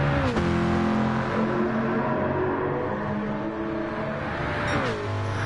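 A Gran Turismo 4 race car engine screams loud and close at high revs down a straight, the pitch holding steady with a quick drop and rise at a gear change early on and another near the end, no talk.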